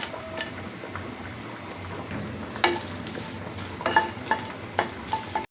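Dried red chillies fry in a pan on a stove, with a gentle sizzle beneath them and a series of clinking, scraping stirs that grow more frequent toward the end.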